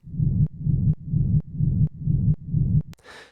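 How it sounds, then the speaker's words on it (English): A heavy, bassy white-noise drone bass pumps in a steady rhythm, ducking sharply from sidechain compression on each kick, six even pulses, then a brief noisy wash at the end. "So a typical kind of sidechain compressor sounds like this."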